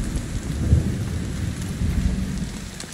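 Heavy rain pours down with rolling thunder in The Division 2, set in the ruins of Washington, D.C.; a steady dense downpour with low rumbling peaks, no talk.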